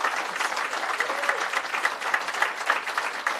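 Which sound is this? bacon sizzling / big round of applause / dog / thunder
big round of applause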